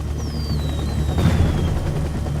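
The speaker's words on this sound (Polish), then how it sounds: "Fajerwerki, proszę bardzo." Fireworks in Splinter Cell Double Agent crackle and rumble over a dense low backdrop, a short loud burst with a faint whistling tone sliding downward.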